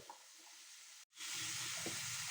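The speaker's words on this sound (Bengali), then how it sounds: "এবার এটা আমি ভালোভাবে ভেজে নেব।" Cauliflower and carrot frying in a pan, a faint steady sizzle briefly cut off, then returning stronger and continuous with light clinks.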